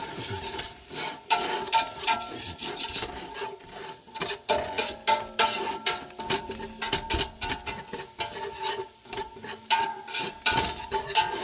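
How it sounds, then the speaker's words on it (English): A spoon stirs a dry potato soup mixture in a cooking pot, giving repeated scraping and rasping strokes with uneven rhythm, close and moderately loud, with no talking. "I'm going to mix it and cook it for about a minute to get that flavor."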